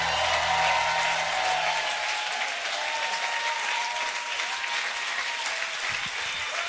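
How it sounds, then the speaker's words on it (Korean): A church congregation at a New Year's Eve worship service applauds continuously, dense and steady clapping from many people filling the room, with a low hum fading out early on. "계속 영광의 박수 올려드립시다."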